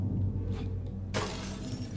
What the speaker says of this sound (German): vielleicht können wir den Spiegel zerbrechen